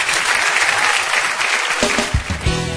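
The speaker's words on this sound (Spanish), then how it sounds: "Dale un aplauso al Señor." A church congregation claps to praise the Lord, loud dense applause that carries through most of the moment before thinning out, with a few scattered final claps near the end.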